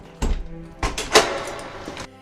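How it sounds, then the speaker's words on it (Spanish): A house door in the evening opens quickly, with a few dull knocks and thumps followed by a creaking, scraping swing, close and fairly loud. "La puerta se abrió rápidamente."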